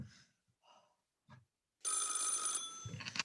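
A telephone rings once in a radio play, a bright sustained ring lasting under a second, clear and close after a few soft thuds and movements in an otherwise quiet room.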